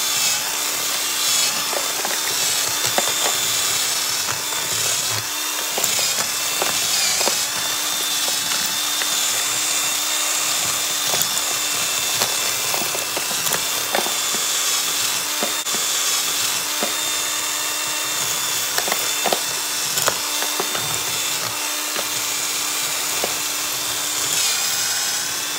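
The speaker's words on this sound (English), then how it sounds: "So now all I do is use a cordless drill" A cordless drill rakes out mortar joints in a French stone wall, whining steadily while grinding and scraping, running almost nonstop at close range with small shifts in pitch and bite.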